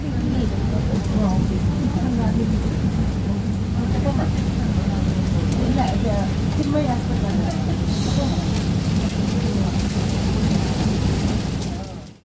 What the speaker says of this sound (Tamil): அடித்து எடுத்தது பாருங்கள், ஆலங்கட்டி மழையும் இடியும்.